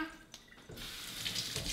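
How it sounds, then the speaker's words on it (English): A kitchen tap runs steadily as fruit is rinsed under it for juice, a continuous close splashing wash of water that starts after a brief quiet opening. "we're just gonna make sure everything's rinsed"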